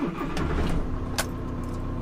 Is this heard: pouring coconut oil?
no